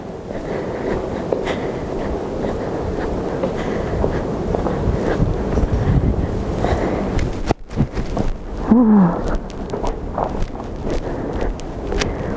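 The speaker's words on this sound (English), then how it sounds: "Ooh, it's windy." Wind buffets the microphone outdoors in Tokyo in a steady low rumble, with footsteps and some outdoor clatter mixed in.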